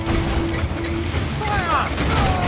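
Naval cannon fire from enemy ships in Assassin's Creed IV Black Flag: dull booms and rumbling blasts in a dense, continuous battle din, with shouting voices over the top.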